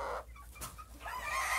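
A young partridge Silkie rooster clucks and calls in short, close bursts over steady farmyard noise from the poultry pens.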